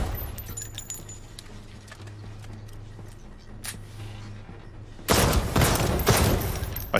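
A burst of firearm shots in a VR James Bond game erupts loudly near the end after a quieter stretch of faint clinks and hum, the shots crowding together in rapid succession.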